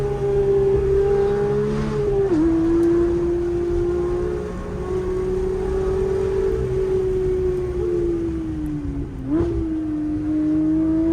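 A manual Porsche 992 GT3 drives a winding mountain road in the Smokies. Its engine holds a loud, close, sustained howl, with two brief pitch dips at gear changes before climbing again.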